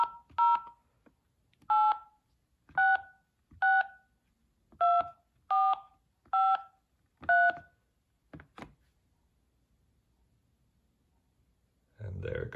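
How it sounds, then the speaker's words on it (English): Eight clear DTMF keypad tones dial a number on a vintage car phone fitted with a Bluetooth adapter, each tone short and evenly spaced with a pause between, followed by a couple of faint clicks and then a burst of noise. "Let's dial a number and see if it works."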